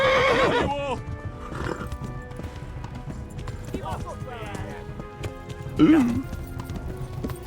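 Horse neighs and whinnies with clip-clopping hooves during tense Kingdom Come Deliverance gameplay, a loud whinny near the start and another sharp one near the end, while a person talks over the game sounds.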